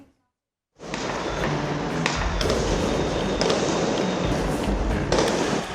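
Gunfire and sound grenades ring out during street protests in Dhaka, Bangladesh: after a moment of silence, loud, dense crackling blasts and sharp reports pile up continuously, with a few stronger bangs standing out.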